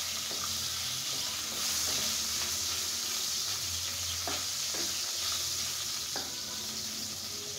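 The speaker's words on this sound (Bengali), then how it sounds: "আমি এখন 5 মিনিট যাবত এই নারকেলটাকেও সুন্দর মতো তেলের ভিতরে ভেজে নেব" Coconut pieces fry in oil over a low flame, giving a soft, steady sizzle with a few faint utensil taps, fairly quiet and without speech.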